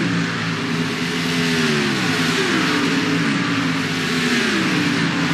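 NASCAR Bass Pro Shops Truck Series trucks racing at Sonoma Raceway, loud sustained engine drone with shifting revs as a pack of trucks sweeps through a corner, steady and close throughout.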